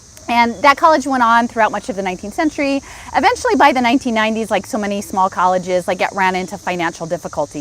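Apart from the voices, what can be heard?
cicadas buzzing outdoors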